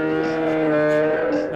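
Cow moo played through speakers at the LuminoCity Christmas light festival in New York, a single drawn-out, buzzy moo lasting over a second, loud and close.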